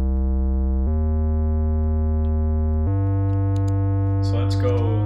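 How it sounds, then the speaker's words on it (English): Regular synth MIDI pattern in Ableton Live with Bezie off: loud sustained buzzy synth notes stepping between a few pitches, each held for a second or two, with a brief scratchy noisy burst near the end. "So when you play it, you'll hear the regular pattern."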